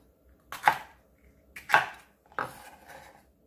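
Crunchy green peppers minced in a kitchen food chopper: three sharp, crisp chopping bursts about a second apart, close and fairly loud, with no voices.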